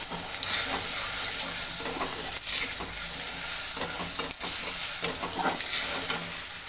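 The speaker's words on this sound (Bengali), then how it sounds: "এবার এটা একটু কষাবো" Ground cumin sautéing in a hot pan gives a steady, close sizzle. Stirring strokes and scrapes sound through it at irregular moments, with no voices.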